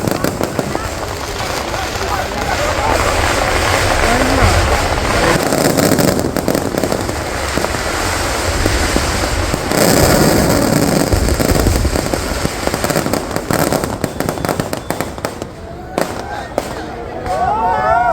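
A fireworks display at a Thrissur temple festival sends out loud, dense, continuous crackling and rapid bursts like firecracker strings, with voices faintly mixed in beneath.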